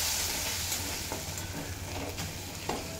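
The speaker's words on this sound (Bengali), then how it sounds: "ভেজে কষিয়ে নেব।" Ginger and green chilli paste frying and being stirred in a pan, a steady close sizzle with a few light scrapes and clicks of the utensil.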